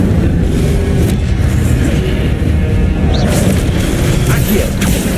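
Fire spell cast in the game Hogwarts Legacy, a loud continuous roaring boom with whooshing bursts amid combat sounds, with speech mixed in.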